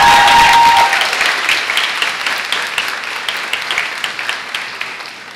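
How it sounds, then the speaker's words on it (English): Audience applause at a girls' high school speech day and awards ceremony, loud dense clapping from a crowd that gradually thins and fades, with a brief tone at the start. "I think that deserves a round of applause."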